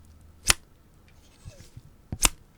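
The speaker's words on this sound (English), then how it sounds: "And now the tailoring shears." Two crisp, heavy cuts from Kai 7250 tailoring shears spaced well apart, close and clean, with soft handling noises in between.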